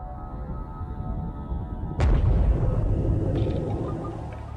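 A depth charge detonates underwater against a U-boat: after a low droning rumble, a sudden loud deep blast breaks in and trails off into a long rolling roar, with no talk.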